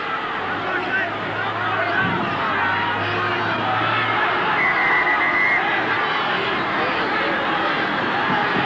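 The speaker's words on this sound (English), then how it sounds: "And now the crowd start their usual chant of getting back on side." Rugby league stadium crowd at a Parramatta versus Canterbury match, a broad roaring chant and babble from thousands of fans, steady and loud throughout, with a low hum beneath.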